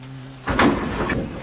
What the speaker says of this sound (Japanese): このドアを必ず閉める。